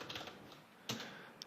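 A command is typed on a computer keyboard, a few faint, close key clicks spread unevenly over a steady background hiss.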